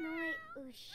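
A cat in The Sims 4 meows twice, the first call long and wavering, the second shorter and rising, heard clearly over a faint background hum.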